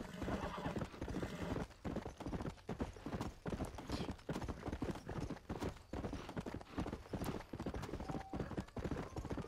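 A horse in Red Dead Redemption gallops with a steady, rapid clip-clop of hooves, loud and close throughout, with an occasional whinny.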